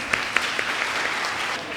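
A brief burst of audience applause at a gathering on Dalit women as a resolution is passed, steady clapping with a few sharper individual claps standing out.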